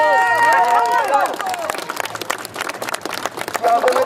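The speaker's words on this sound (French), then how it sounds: "Je voudrais quand même qu'on applaudisse mon confrère Solion qui est ici." Applause and scattered clapping rise from a rally crowd at the Trocadéro in Paris, following a man's amplified speech and continuing under crowd noise before a voice returns.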